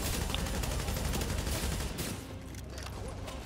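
Rapid automatic gunfire rattles in a dense, continuous volley during a shooter mission in the video game The Division, loud at first and easing off into scattered shots.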